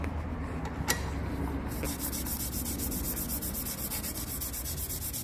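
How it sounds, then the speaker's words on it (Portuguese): Sandpaper rubbing the commutator of a starter motor armature from an M100 tractor, producing a continuous, even abrasive rasp, close and steady throughout, with no talk. "Primeiro nós vamos lixar o coletor induzido."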